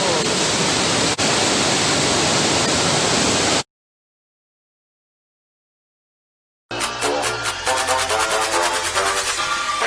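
Torboll waterfall in Scotland pours as a loud, constant broadband rush, which cuts out to silence and then returns with a noisier, more tonal texture.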